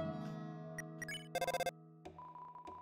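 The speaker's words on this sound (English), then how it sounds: "The phone is ringing, but you can't get it." A telephone rings in the video game Deltarune, heard as bright, repeated electronic tones with a rapid trilling burst mid-way, mixed among other soft chiptune game sounds and no voices.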